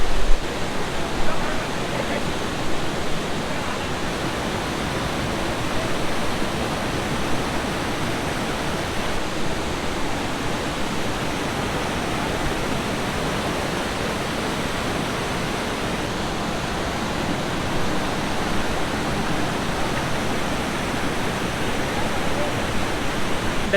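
Dugarwadi waterfall near Nashik, Maharashtra, roars as a steady, dense rush of falling water, broadband and unbroken throughout with no voices over it.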